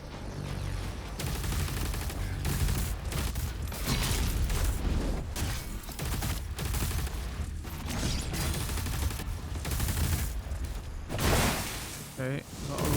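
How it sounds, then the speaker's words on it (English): Plasma gun fire in the video game Doom The Dark Ages, rendered as dense, rapid bursts of blasts and impacts that run loud and continuous for several seconds, with brief gaps and mechanical clatter. "Plasma gun test in progress."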